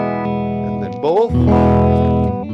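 Reverend Pete Anderson PA1 electric guitar on both pickups through an amplifier with a touch of reverb, sustained chords ringing out, a brief bent note, then a fresh strummed chord that rings on loud and close.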